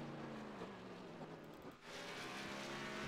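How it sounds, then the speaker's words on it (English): Race car engine, the number 4 car, droning steadily on an oval track during a night race, with a brief dip in the roar before it builds again; loud and continuous with no talk. "You hear him pedaling the gas down."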